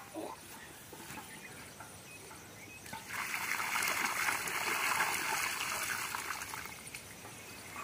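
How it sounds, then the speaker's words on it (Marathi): Water is poured onto a newly planted bael sapling in a farm field: quiet outdoor air, then a sudden, continuous splashing trickle that lasts several seconds before tapering slightly. "त्याला पाणी ओतून घ्यायचं"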